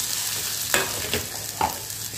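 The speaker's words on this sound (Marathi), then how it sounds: "आता गवारी छान भाजलं" Cluster beans roast in a pan over a low gas flame: a soft, continuous sizzle broken by a few brief scraping stirs, close up and with no talking.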